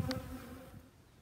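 Honey bees buzz in a bee yard on a warm spring day in Southern Illinois, a soft steady hum close by that slowly fades.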